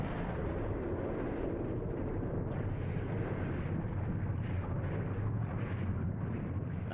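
Volcanic eruption rumbles as a sustained, dense low roar with rolling bursts, heavy and continuous throughout, with no voices.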